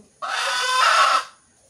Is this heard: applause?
no